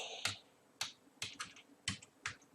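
Several separate keystrokes on a computer keyboard, typed while entering VBA macro code in Excel, sound as distinct close taps at an uneven pace, with quiet pauses between them and no talking.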